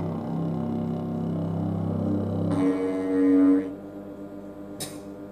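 Minecraft goat horn sounds its "Feel" call in the video game, a sustained, wavering horn tone that shifts pitch midway and then fades, ending with a brief click and no talking.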